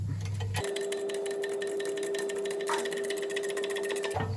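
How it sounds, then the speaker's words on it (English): A front wheel bearing is pressed or wound onto an Audi A4 Avant B7 using a tool. A steady mechanical whine with a constant tone runs for about three and a half seconds between short bursts of lower rumble. "If you are putting it on with a press, you just want to make sure as you're pressing it down that it goes on nice and square"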